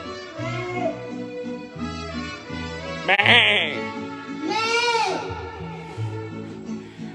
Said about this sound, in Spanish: Eso fue un chivo